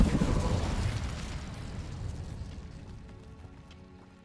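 The Bombarda spell goes off in Hogwarts Legacy, a loud booming blast at the start whose rumble decays gradually over several seconds.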